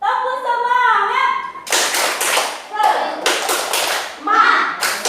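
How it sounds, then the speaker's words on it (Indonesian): Children in a classroom clap a rhythmic spirit-clap pattern in bursts, loud and close, separated by brief pauses and mixed with chanting voices, after a sung or spoken opening. "Bagaimana kalau kita tepuk semangat dulu?"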